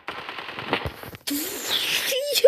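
Bursts of rapid gunfire from the mobile shooter game Standoff 2, a rattling stretch followed by a louder, denser barrage with sharp electronic effects near the end.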